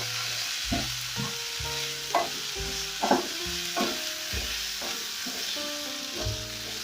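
Beef sizzles and fries steadily in a hot pot over ginger for a beef and peas stew, a continuous crackling hiss with periodic stirring scrapes and clunks, close and fairly loud, with no talking.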